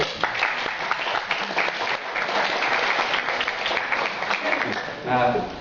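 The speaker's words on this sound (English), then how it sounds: "Let's give a round of applause for these people." Conference audience at WordCamp 2010 in Jerusalem applauds plugin authors, a moderately loud, sustained patter of clapping that swells briefly and fades as a voice starts talking near the end.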